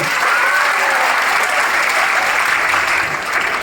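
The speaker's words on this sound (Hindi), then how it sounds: "एक बार फिर जोरदार तालियां" Loud, dense applause from an audience at a Marathi guidance lecture, honoring parents: many hands clapping continuously and evenly, close and sustained from start to finish with no talking.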